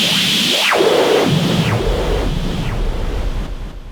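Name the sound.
white noise effect from Korg Mini Kaoss Pad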